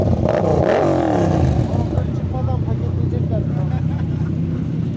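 Several motorcycles with aftermarket exhausts, including a 450SR, rev loudly together at a night group ride, with a dense, continuous engine roar and rising rev sweeps early on while voices talk over it.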